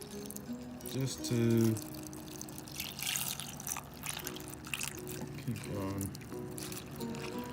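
Water pours and trickles into a rock tumbler barrel holding plastic pellets, a steady liquid splash under ongoing talk from a person nearby.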